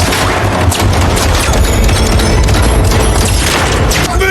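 Dense, continuous gunfire and explosive booms fill a war film battle scene as North Korean troops close in, loud and unbroken with no clear gaps between shots.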